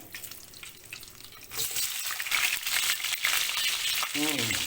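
Onion dropped into a pan of hot oil and butter, a quiet start that breaks into loud, bright sizzling, which then crackles on steadily to the end.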